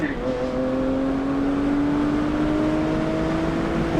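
BMW M2 Competition with S55 engine, Valvetronic Designs equal length exhaust and OEM downpipes, revving steadily, a loud smooth drone that climbs slowly in pitch, heard from inside the car.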